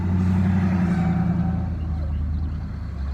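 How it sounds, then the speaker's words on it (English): A garbage truck idling just outside an open window, a loud, steady low diesel rumble and drone filling the whole stretch, close and continuous with no talk over it. "There's a garbage truck kind of chilling over here. It's kind of loud."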